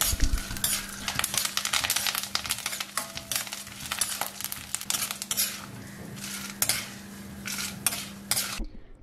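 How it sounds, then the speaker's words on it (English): Dal and seasoning ingredients sautéing in a pan, a metal spoon scraping and clinking repeatedly in quick bursts over a low steady sizzle, fairly close. "Saute until dal changes color."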